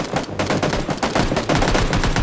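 Rapid bursts of automatic gunfire in the video game PlayerUnknown's Battlegrounds crackle continuously, loud and close, with dense overlapping shots and a few short gaps.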